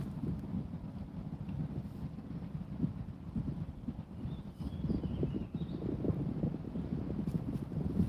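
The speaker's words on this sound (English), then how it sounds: "We'll let the wind die down for a second" Gusty wind buffets the microphone outdoors at a park fishing spot, a steady low rumble that swells and dips throughout with no voices.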